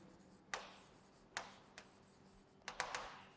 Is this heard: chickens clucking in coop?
no